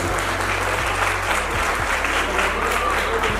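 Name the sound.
wedding guests applauding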